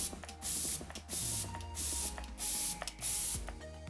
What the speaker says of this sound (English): we're going to set with one of my favorite setting sprays, and this is the Glam Glow Glow Setter.